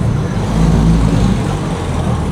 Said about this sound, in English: Another Porsche rolling in.